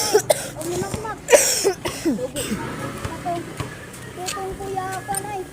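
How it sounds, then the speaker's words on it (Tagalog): A person coughs in a few short, sharp bursts close to the microphone, with chatter and other voices in between. "Kasi may ubo nga ako dyan."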